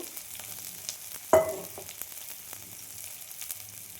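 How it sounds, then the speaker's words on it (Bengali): Sliced onions frying in oil with black cumin seeds, a soft continuous sizzle broken by one sharp clatter of a utensil against the pan. "পেঁয়াজটা ভেজে নেব।"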